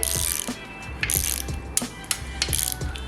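A torque wrench clicks and ratchets on the bolts of a Mazda RX-8 rotary engine, several sharp metallic clicks and ratcheting bursts in a close, quiet garage setting without speech.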